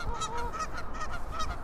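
Geese honk in a loose run of repeated, nasal calls, fairly close and steady over a constant low outdoor rumble, with no talking.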